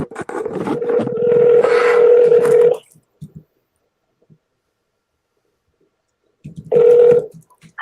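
A telephone call rings out in two bursts of ringback tone, a long steady ring followed by silence and then a second ring, loud and close over a faint line hiss.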